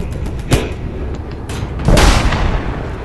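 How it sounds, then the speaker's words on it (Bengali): A tank cannon fires in a video game, with two heavy booms about a second and a half apart, each followed by a rumbling tail over a low background. "গাইস একটা ফায়ার করে দিয়েছি"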